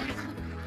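Ducks quack in a short, close burst of nasal calls, loud and alone with no talking.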